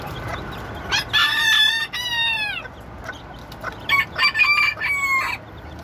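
Bantam chickens call loudly nearby in bursts, with a drawn-out crowing cry followed by rapid clucking and squawking notes, separated by short quiet gaps.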